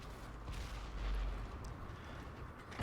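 Heavy booming tank gun shot in the World of Tanks video game, a deep rumbling blast rising in the middle of the clip, with another blast starting right at the end.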